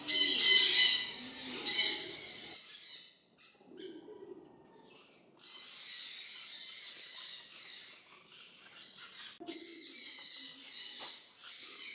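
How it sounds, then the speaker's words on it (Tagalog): A racing pigeon from Romania, bred by Edward Berjaic, gives low, soft coos in short separate bursts between quiet gaps. Sharper chirping from other birds sounds nearby. "itong ibon na ito galing sa Romania, breed ni Edward Berjaic"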